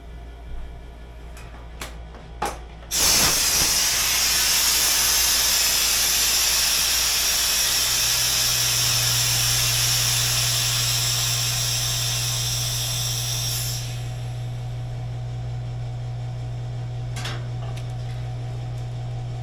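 The front air ride suspension on a 1950 Buick vents air in a loud, steady hiss that lasts about ten seconds, then tapers off under a low hum, preceded by a few light clicks.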